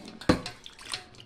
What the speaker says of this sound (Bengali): তো এবার একটু জলে ধুয়ে নিই।